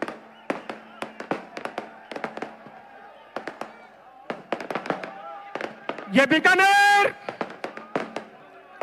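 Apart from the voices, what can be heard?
fireworks bursting at a political rally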